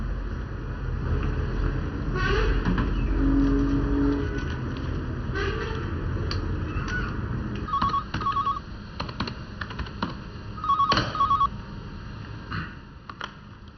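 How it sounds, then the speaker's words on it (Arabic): A telephone is dialed indoors in a drama scene, with short paired electronic tones sounding twice in the second half over a faint, rumbling room background. "اقدر استخدم التليفون؟"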